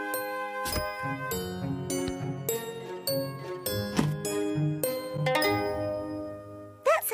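A homemade shoebox guitar in a cartoon is strummed and plucked, giving a series of bright ringing twangs, several separate notes and chords that sustain and fade one after another.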